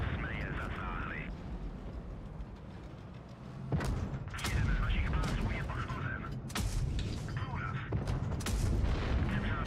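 Booming tank cannon shots in a tank video game, several heavy blasts spaced a second or two apart over a steady rumbling battle background, fairly loud and close.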